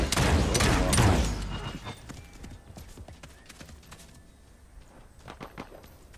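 Gunfire in the battle royale video game Realm Royale: a loud flurry of rapid shots up front, then scattered, fainter pops and clacks spread through the rest.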